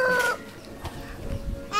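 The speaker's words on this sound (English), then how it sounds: "Then here is the beautiful chicken." A chicken gives a few short clucks close by, with a brief harsher call at the start and a softer one near the end, over quiet outdoor background and no speech.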